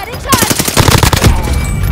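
Rapid submachine gun bursts from a Call of Duty match, a loud, dense rattle of shots fired in quick succession with game sound underneath.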